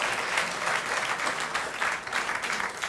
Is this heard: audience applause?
yes